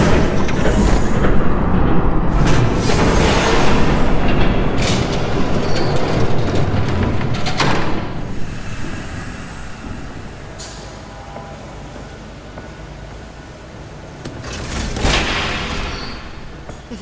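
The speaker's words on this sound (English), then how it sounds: "There's a train coming." A train rumbles past in the Batman Telltale Series video game, a loud, continuous roar that swells and fades over several seconds, with bursts of clanking and no talk.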